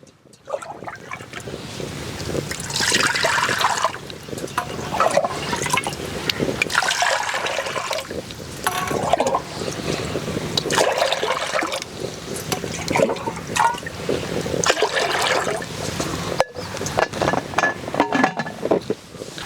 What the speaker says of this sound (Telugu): నాలుగు చెంబులు నీళ్ళు వేసుకుంటున్నాను